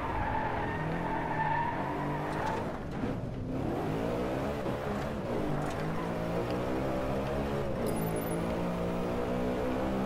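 A BMW M3 GTS drives hard, its engine revving up and down with tonal tire squeal under heavy braking, loud and close across about ten seconds.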